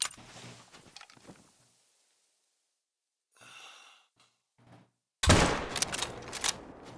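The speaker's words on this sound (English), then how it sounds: "Let's take a shot at him." A rifle shot fired at a large bear while hunting in theHunter: Call of the Wild, a sudden loud blast followed by a rumbling, decaying echo, preceded by quiet breathing and soft rustling.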